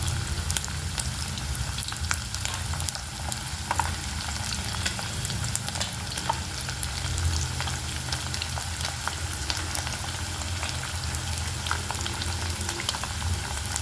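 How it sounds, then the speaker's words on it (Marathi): Potatoes frying in a pan on high flame, a dense continuous sizzle and crackle heard close and steady throughout, with no talk over it. "मोठ्या गॅसवरती करायचे आहे आपल्याला बटाटे फ्राय"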